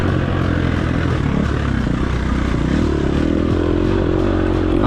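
Dirt bike engine revving hard on an off-road hare scramble course, loud and close, with a continuous droning roar that climbs in pitch as the rpm rises.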